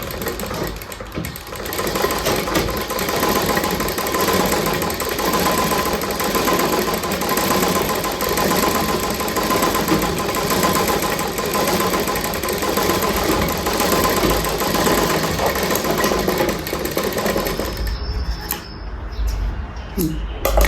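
A sewing machine stitches loose blouse cloth in a tailoring workshop, giving a continuous rapid mechanical whir and clatter that runs steadily for most of the stretch before stopping. A voice speaks briefly along with it.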